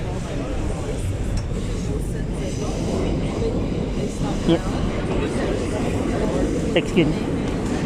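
A New York R211 subway car on the A train toward Ozone Park-Lefferts Blvd rumbles steadily along the tracks, with faint clicks and squeaks, while people speak briefly over the noise.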